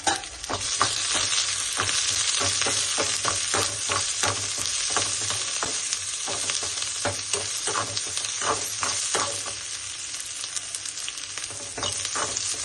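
Cumin seeds and onion frying in oil in a pan, with a steady close sizzle and repeated sharp scraping and stirring strokes throughout, with no voices.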